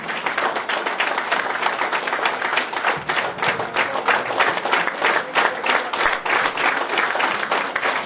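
Loud, sustained applause from a crowd at a Karni Sena members' meeting in Jharkhand, dense and continuous clapping filling the hall for several seconds at an even level.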